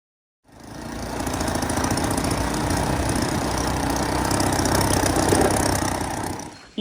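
A motorcycle engine runs steadily and fairly close, with a continuous mid-pitched drone that rises in at the start and holds at an even level without pauses.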